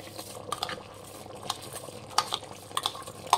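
Soaked, washed basmati rice is stirred into fried chicken masala for a Chettinad chicken biryani, a spoon scraping and clinking against the pot in uneven strokes over a soft sizzle.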